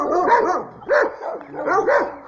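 A dog, apparently a boxer, barks in a quick series of sharp, loud close barks with short gaps between them, with no talk over the sound.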